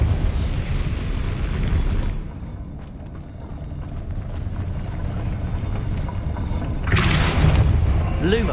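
In Hogwarts Legacy, a Depulso force spell fires as a sudden bright whoosh and boom near the end, following a stretch of low rumbling magical effects and ambient game noise.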